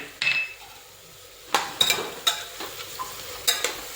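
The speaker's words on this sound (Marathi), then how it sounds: "थोडे शेंगदाणे घालायचे त्यांना सुद्धा तेलात व्यवस्थितशीर परतून घ्यायचे" Peanuts sautéed in oil in a pan while a spatula gives sparse scrapes and clinks against the metal over a faint sizzle, close and moderately loud, with no talk.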